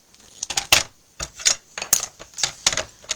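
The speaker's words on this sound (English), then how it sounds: "now let's bring in my trimmer" Sharp paper trimmer cuts through cardstock for a handmade card, a string of crisp, close clicking snaps with short pauses between strokes.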